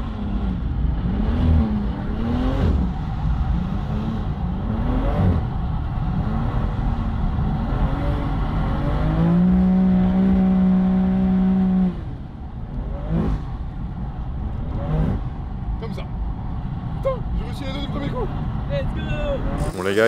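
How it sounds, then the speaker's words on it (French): BMW M3 drifting through a long right-hand corner, its engine holding a steady, strained note through the slide with rising and falling revs on either side, with talking over it. "Je vous mets un extrait juste maintenant avec ma petite M3 les gars, je l'avais réussi."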